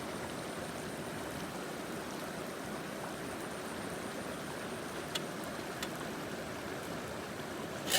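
A river flows steadily through the night in an otherwise quiet setting, a constant broadband wash of moving water with a few faint clicks near the end.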